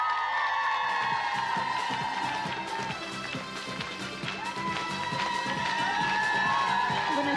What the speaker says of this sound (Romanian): astăzi îi aplaudăm cu drag